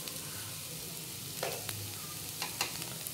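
Carrots for Gobi Manchurian frying lightly in a pan, a soft steady sizzle with a few brief scraping stirs, fairly quiet and without talk.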